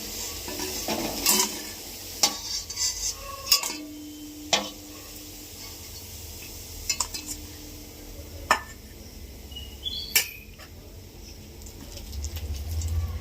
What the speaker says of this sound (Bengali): এরকম ভাবে আমি সব পেঁয়াজগুলো ভেজে নেব